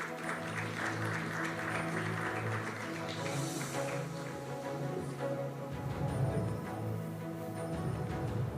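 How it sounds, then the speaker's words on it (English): Applause from a conference audience at a wealth and investing summit, a steady crackle of many hands clapping that holds for several seconds at moderate level, with no talk over it. "A big round of applause."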